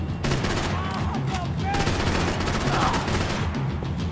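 Rapid bursts of gunfire from a Max Payne 3 shootout, dense and repeated near-continuous shots filling the whole stretch with a sustained loud crackle.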